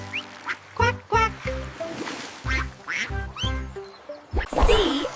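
Cartoon duck quacking in a children's alphabet song, several bright quacks in bursts alongside musical tones and sung phrases.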